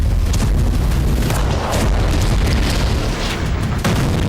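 Rockets and missiles fired by Hezbollah from Lebanon toward Nahariya and Meron: a continuous loud, roaring rumble of launches and booms, dense and sustained throughout with no pauses.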